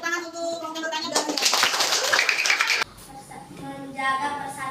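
Applause for a group of pupils in a classroom, a burst of clapping swelling for about two seconds and stopping abruptly, with children's voices and a teacher talking before and after.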